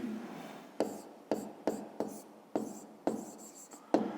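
Pen on paper during a fifth-grade math exercise, seven or eight short scratchy strokes tapping at an irregular pace, close and quiet, with a faint breathy voice in the background.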